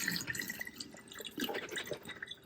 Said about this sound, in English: Make sure that water's all over it and then just drain it.